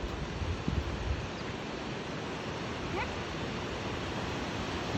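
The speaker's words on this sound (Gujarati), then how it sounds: "જેવી બારી ખોલેલી છે કેટલું બધું પાણી આવે" Water gushing through one partly opened gate of a nine-gate dam at Dhari, near the Khodiyar temple, makes a steady, loud, broadband roar that stays even throughout with no talk.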